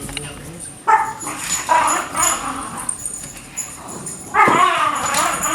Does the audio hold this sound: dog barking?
yes